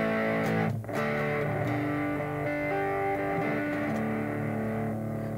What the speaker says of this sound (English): That is a simple distortion pedal.